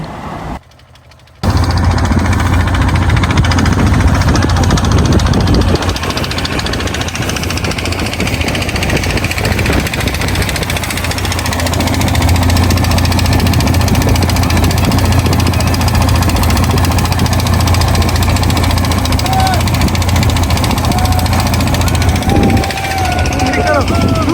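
A loud, steady motor boat engine on a river drones throughout with a chugging rumble, starting abruptly after a brief quiet moment and continuing without pause.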